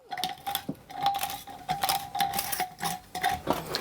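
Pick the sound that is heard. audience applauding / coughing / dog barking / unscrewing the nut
unscrewing the nut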